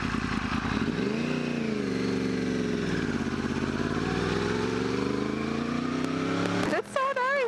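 A 2009 Yamaha R1 motorcycle exhaust rumbles low and growly as the bike pulls away, its steady engine drone rising and falling with the throttle while a rider's voice is heard over it.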